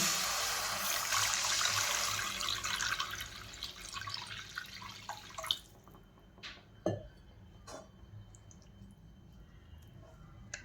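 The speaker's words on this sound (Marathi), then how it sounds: "आता पाणी टाकून घेत आहे पहा मी." Water is poured into a spiced mixture for a Marathi sandgyachi bhaji curry, a steady rushing pour for several seconds that stops, followed by a few faint drips and light clinks in a quiet kitchen.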